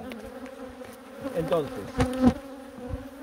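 Honeybees hum at their hive in winter, a steady low drone with a few louder swells of buzzing near the end; a single word is spoken briefly.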